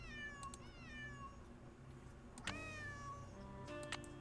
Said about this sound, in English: Why are you still meowing?